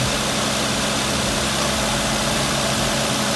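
A 2009-2014 Nissan Murano engine idles steadily up close after MAF and throttle body cleaning, a loud, constant mechanical hum and vibration with no voices.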